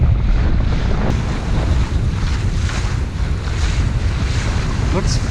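Strong wind on the Mississippi River buffets a sailboat, a loud continuous roar of gusts against the microphone with water wash underneath and no clear voices.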